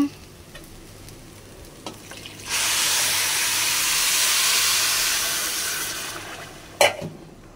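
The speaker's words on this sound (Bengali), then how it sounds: "এই যে পানি দিয়ে দিচ্ছি, এখন একটু ঢেকে দিই।" Water poured into a hot pan of frying rice sets off a loud, sustained burst of hissing steam that fades after a few seconds, followed by a sharp utensil clank.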